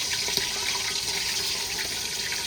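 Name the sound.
water running while washing chicken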